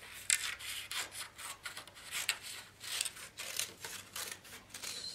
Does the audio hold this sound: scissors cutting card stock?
yes